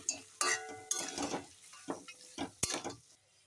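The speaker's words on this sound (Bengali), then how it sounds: "এবার একটু মশলাটা কষুক" A paste of chilli, cumin and ginger fries in a pan for a fish-head and cabbage dish, with a spatula clinking and scraping against the metal in short, uneven strokes over a faint sizzle, close by and without talk.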